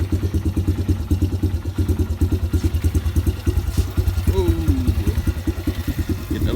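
A Honda CRF125 supermoto motorcycle idles close by with a steady, rapid single-cylinder putter, then clunks into gear partway through while the engine keeps chugging.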